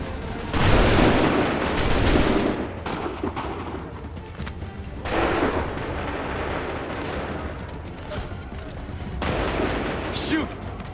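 Musket volleys in the Assassin's Creed III video game crash out in several loud, rolling bursts a few seconds apart, with battlefield noise and shouted voices between them.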